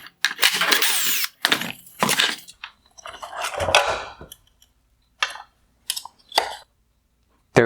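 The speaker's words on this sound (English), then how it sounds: "Next, I'm going to remove the Phillips head screws holding on the lower LED unit." Screws are worked loose from the lower LED unit of a 2015-2018 Nissan Murano LED headlight: a long run of close, scraping tool noise gives way to a few short, sharp clicks separated by silence.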